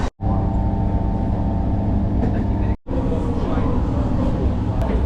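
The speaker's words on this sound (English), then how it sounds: "the train's moving" A steady low rumble of a moving train carriage, continuous and fairly loud, with a brief dropout near the start and again midway.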